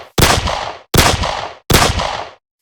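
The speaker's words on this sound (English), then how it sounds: "here's a couple gunshots at max volume" Three loud gunshots from a Minecraft superhero mod at maximum volume, each a sharp blast with a ringing tail, evenly spaced about a second apart.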